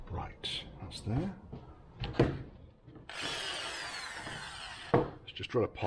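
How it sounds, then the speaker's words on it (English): A power drill whirs steadily for about two seconds, boring a pilot hole into wood, with scraping and knocking sounds and a voice talking before and after. "Let's just drill a pilot to start off with"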